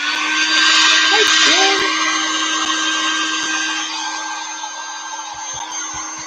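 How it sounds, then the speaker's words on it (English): Hair dryer blowing steadily at a high setting, a loud, broad whooshing hum that holds for several seconds before easing slightly, with a voice speaking briefly over it. "I found my hair dryer"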